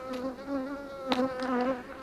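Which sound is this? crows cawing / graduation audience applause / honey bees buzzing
honey bees buzzing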